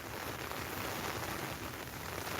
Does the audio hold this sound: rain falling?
yes